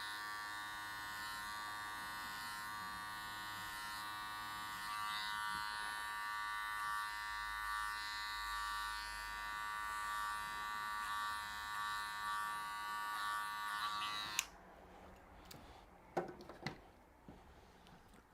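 An electric hair clipper buzzes steadily and close up while cutting hair during a two-block haircut with a 1.5 guard, the hum running unbroken for most of the time before cutting off abruptly, leaving a few faint handling clicks.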